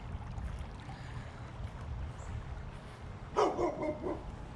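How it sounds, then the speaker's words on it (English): A neighbor's dog barks once or twice at a distance outdoors in a backyard with a playhouse and sandbox, a short muffled burst above steady low outdoor rumble. "My neighbor's dog, he's gonna bark at us the whole time."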